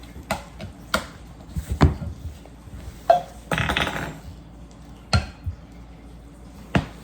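Homemade goat milk soap mixture being stirred in a container, heard as irregular knocks and scraping clatters of a utensil against the vessel, some louder and sharper than others, with no talk.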